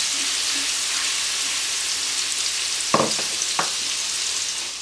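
Fresh garlic frying in oil in a large pan, a steady close sizzle throughout with two brief stirring or scraping clatters near the end, no talking.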